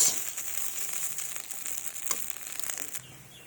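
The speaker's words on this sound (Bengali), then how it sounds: "দেখুন, এবার এটাকে আরও একটু ভালোভাবে নেড়ে চেড়ে ভেজে নেব" Leftover cooked rice frying in a pan with a spoonful of cow ghee, a constant bright sizzle with faint scraping as it is stirred, fading slightly toward the end.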